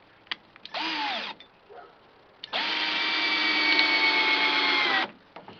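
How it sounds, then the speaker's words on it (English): A power drill drives self-drilling screws into the wooden frame of a garden cold frame: a short whirring burst, a pause, then a longer steady whine of about two and a half seconds, close and loud. "Now those are self-drilling screws, so they have a lot less chance of splitting the wood."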